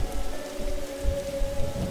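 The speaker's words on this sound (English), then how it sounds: "Every time I bring a book back, I end up on the roof in the rain." Rain falling on a roof in The Darkside Detective video game, a loud, dense, continuous patter with a low rumble underneath and no voices.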